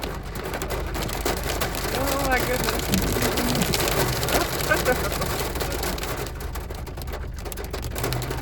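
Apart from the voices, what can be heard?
hail falling on a car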